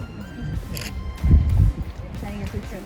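A camera shutter clicks while a photo is taken at a Grand Canyon overlook near Gracie Falls, a brief snap set against outdoor ambience and nearby voices.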